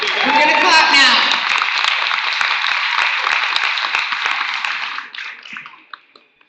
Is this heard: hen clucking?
no